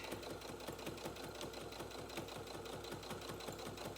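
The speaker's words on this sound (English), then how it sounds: "stitching right in the ditch" Sewing machine stitching in the ditch along a quilt's seams, a steady, rapid mechanical chatter running continuously at close range with no voices.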